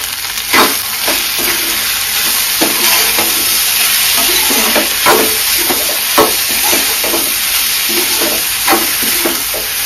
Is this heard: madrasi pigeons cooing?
no